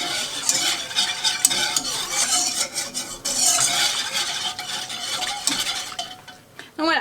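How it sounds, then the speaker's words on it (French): A whisk stirs 300 ml of milk into a thickening sauce in a pan, making a continuous close, busy scraping and bubbling clatter with brief dips, no voices. "je vais prendre le fouet. Je vais ajouter 300 ml de lait."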